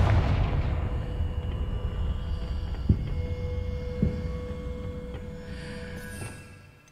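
A Confringo blast spell goes off in Hogwarts Legacy, a heavy booming explosion at the start whose rumble decays over several seconds, with a couple of sharper impacts and a faint hum afterward.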